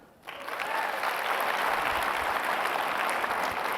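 An indoor summit audience breaks into applause, a sudden swell of clapping that holds steady and full for several seconds, close and unbroken.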